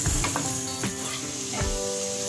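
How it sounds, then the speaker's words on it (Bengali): Onions frying brown in oil for a potato chicken curry: a continuous close sizzle with occasional stirring knocks and scrapes from a spoon against the pan. "পেঁয়াজটাকে একটু বাদামি কালার করে ভেজে নেব।"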